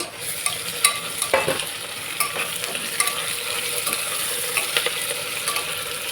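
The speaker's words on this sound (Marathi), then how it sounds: "त्याच्यामध्ये हे तोंडली गाजर आणि वांग हे पण टाकून घ्यायचं म्हणजे सगळं छान असं भाजलं जाईल तेलामध्ये" Ivy gourd, carrot and brinjal stir-fry in hot oil, a close, continuous sizzle punctuated by irregular clinks and scrapes of a spatula against the pan.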